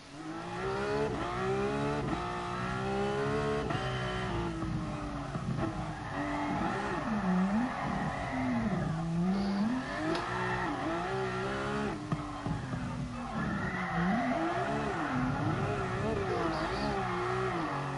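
Car drifting at the Nordschleife in Gran Turismo Sport, a continuous engine drone rising and falling with revs while tires squeal in long wavering slides, loud and sustained throughout.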